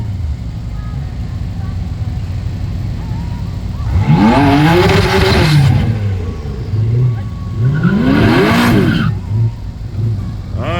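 Loud race cars, a Ford against a BMW, roar through two long revving passes at a drag race, with rising and falling engine tones and a steady crowd-and-track bed between them.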